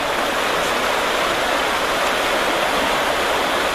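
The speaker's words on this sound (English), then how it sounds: "That's the river down there." A river running below a high bank during a drought, heard as a steady, loud, even rush of water that continues unbroken, with no voices.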